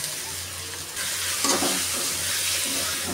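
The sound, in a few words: frying jute leaf greens with onions in pan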